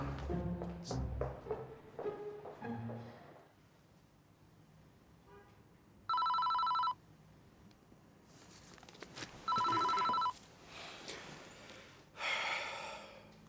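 A telephone rings with an incoming call in two separate electronic bursts, a few seconds apart, amid quiet rustling and breathing in an indoor scene.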